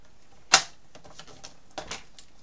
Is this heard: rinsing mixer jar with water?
no